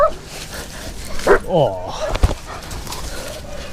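Coop, a security dog, whimpers and yips at close range in a few sharp bursts, with a voice speaking briefly over the whining.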